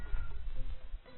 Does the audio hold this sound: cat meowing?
yes